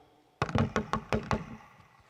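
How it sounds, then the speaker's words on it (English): Someone knocks on a door in a run of about seven sharp, even raps after a short silence, loud and near, with no talking. "That night there was another knocking at the door."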